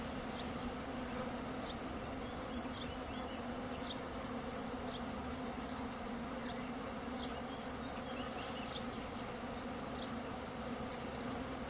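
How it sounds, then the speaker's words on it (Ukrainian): Bees buzz continuously around honey frames set out to dry, a close, steady drone with occasional individual insects passing near. "бджолки ще будуть щось там шукати, зрізатимуть прополіс на рамках"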